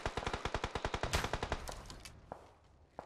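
Rapid bursts of automatic gunfire in PUBG Mobile, a fast evenly spaced volley of about fifteen loud shots over a second and a half, then a quieter tail with a couple of isolated distant shots.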